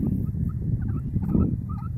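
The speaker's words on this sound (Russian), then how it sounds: "Вот она кудахчет." Hens kept in a school yard cluck in short, repeated bursts over a steady low murmur, close and fairly loud throughout.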